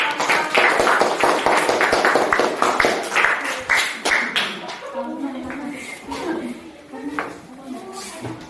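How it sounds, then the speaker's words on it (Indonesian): Audience clapping for a group presentation in a classroom session: dense, fairly loud applause with many overlapping hand claps, tapering and thinning toward the end. "Kasih aplaus buat"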